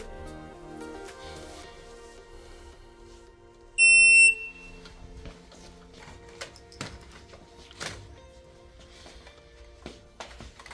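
At a PR22 rifle match in Iceland, a shot timer gives a single loud, sharp electronic start beep of about half a second. It stands out against quiet outdoor background noise with scattered clicks and knocks.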